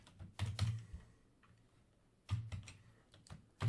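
Quiet bursts of computer keyboard typing come in clusters of rapid key clicks separated by short pauses, close up and faint, while a console.WriteLine statement is entered in C# code.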